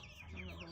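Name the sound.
darag native chicken clucking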